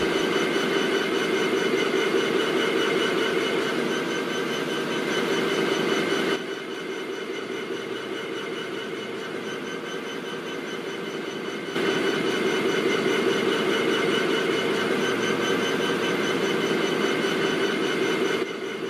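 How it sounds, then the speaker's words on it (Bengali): Rangpur Express pulling out in a Bangladesh train simulator game, producing a loud, steady rail and engine rumble that dips for a stretch midway, then swells back. "এখন আমরা রংপুর এক্সপ্রেসকে নিয়ে রংপুর এক্সপ্রেসের পরবর্তী যাত্রাবিরতির উদ্দেশ্যে রওনা হব"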